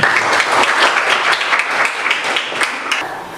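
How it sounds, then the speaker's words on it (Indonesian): A classroom of students applauds after group presentations, a loud burst of many hands clapping together that carries on evenly for a few seconds before tapering slightly. "Oke, kasih tepuk tangan dulu."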